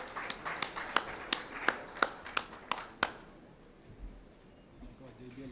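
Applause from guests at an insurance intermediary awards dinner at Serena Hotel in Nairobi: a run of sharp, distinct claps, quick at first and then spaced out, fading into quiet room murmur.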